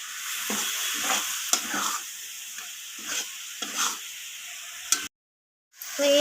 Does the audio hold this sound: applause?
no